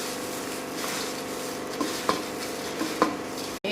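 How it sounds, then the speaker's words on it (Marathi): Murmura bhel, a puffed rice snack coated with chili and oil, rustles and crunches as it is mixed in a bowl, with a steady dry churning and a few sharper clinks near the end. "आता मी यामध्ये मिक्स करून घेते"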